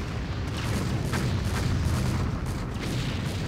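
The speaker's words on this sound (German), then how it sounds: "Wo kommt die Explosion jetzt her?" Dense, continuous booming rumble of an explosion in the strategy game Empire Earth, loud and heavy in the low end, sustained with crackling bursts throughout.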